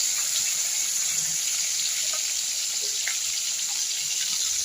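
Tap water runs steadily into a sink during handwashing with soap, a continuous hissing splash heard close up and unbroken throughout, with no talking.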